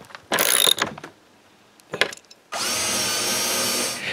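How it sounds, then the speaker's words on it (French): A power drill drives screws to fix a hinge onto a wooden shutter: two short whirring bursts separated by pauses and clicks, then a longer steady drilling run near the end, close and loud. "Je peux maintenant visser la première penture du premier volet."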